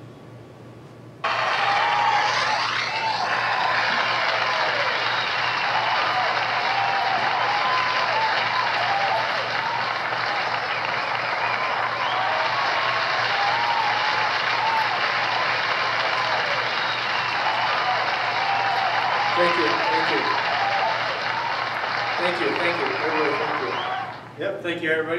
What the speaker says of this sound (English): are overwhelmed with the applause